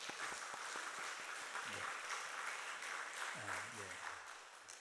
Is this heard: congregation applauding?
yes